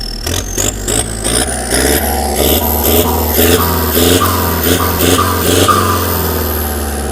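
Revving from a turbocharged Isuzu MU-X diesel engine after a turbo installation, a loud, steady engine roar with repeated rising rev surges and a high turbo whistle climbing over it, with no talking.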